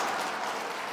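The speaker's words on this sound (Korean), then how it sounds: "박수를 너무 많이 쳐주니까 막 춤이라도 추고" Dense audience applause from a church gathering, a continuous wash of many hands clapping at steady loudness throughout a brief moment.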